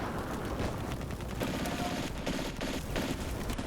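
Gunfire and mortar fire from the World War II strategy game Combat Mission: Barbarossa to Berlin crackle in a quiet, dense, continuous fusillade with scattered rattling bursts.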